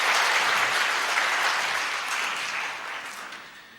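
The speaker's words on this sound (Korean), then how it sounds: "여러분들 환영의 박수 부탁드립니다." Church congregation at a Sunday service gives welcoming applause: dense, even clapping that starts full and gradually fades out over a few seconds.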